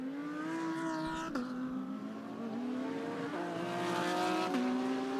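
GT race cars battling wheel to wheel at Suzuka in a 10-hour endurance race, engines roaring loud and close with pitch shifts through gear changes, a few sharp clicks of contact and tire scrub over the continuous howl.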